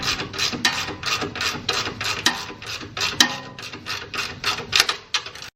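A ratchet wrench removes coilover bolts on a 2020 Supra, using 16mm and 21mm sockets, giving a steady run of rapid, close mechanical clicks with no talking.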